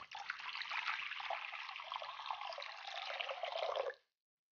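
Water pours steadily into a bowl for about four seconds, a close, even splashing trickle that cuts off cleanly.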